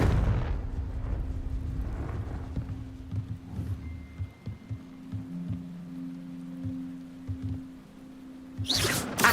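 Explosive spell blasts in Hogwarts Legacy on PS5: a loud booming rumble opens, then scattered thuds and pops follow over a low game hum, with a sharp burst at the very end.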